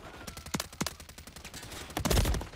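Gunfire in Modern Warfare 3, a few sharp bursts of rapid shots in a quick, uneven rhythm, heavier toward the end, with no voices.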